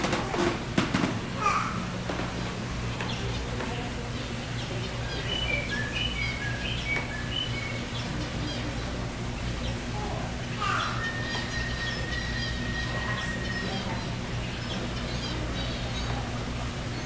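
Small finches in a large free-flying indoor aviary give faint, scattered high chirps and tweets. A steady hum of the hall and occasional voices sit underneath.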